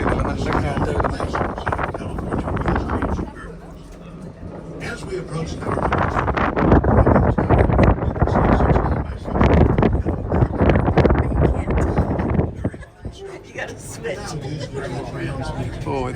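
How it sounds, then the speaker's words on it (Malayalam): Strong wind buffets the microphone at the top of a tower high in the mountains, a loud, gusting roar that rises and falls while people talk over it. "ഇതിൽ നല്ല കാറ്റ് വരുന്നത്"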